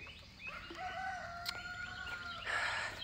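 A rooster crows once in an African village, a drawn-out call at moderate distance, with chirping songbirds around it and a soft outdoor ambience.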